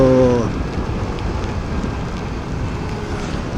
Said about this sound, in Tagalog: tuloy-tuloy ang ulan.